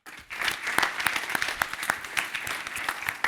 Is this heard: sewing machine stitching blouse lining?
no